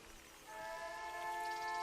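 A steam train from the Red Dead Redemption 2 video game sounds its whistle, a sustained multi-tone blast that starts about a quarter of the way in and holds steady to the end, loud and close.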